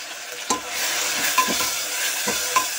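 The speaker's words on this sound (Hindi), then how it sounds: "अब मैं इसमें प्याज वाला मसाला डाल दूंगी" Onion, garlic and chili masala fries in hot oil with cumin in a pressure cooker, giving a steady loud sizzle broken by several sharp stirring scrapes and clinks, with no talk.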